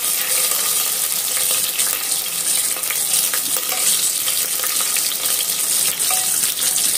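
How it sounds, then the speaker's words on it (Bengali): Cashews and raisins frying in a pan with ginger paste for a vegetable pulao, a constant bright sizzle with steady stirring and scraping and no talking. "কাজু খিনি জাস্ট অকমান গোল্ডেন কালার হওয়ালেকে ভাজিম"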